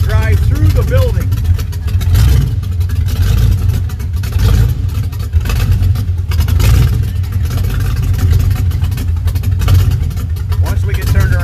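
A 1934 Ford hot rod engine rumbles low and loud as the car drives slowly through a building, with a steady close drone and small swells of revving, and voices talking over it.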